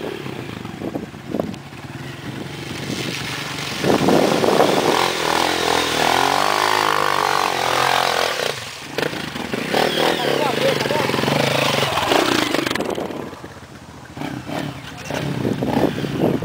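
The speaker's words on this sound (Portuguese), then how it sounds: "olha o outro roio, deixando a moto morrer" A dirt bike on a rural trail revs and strains in bursts, its engine rising and falling as it struggles and nearly stalls, loud and close with people talking and shouting around it.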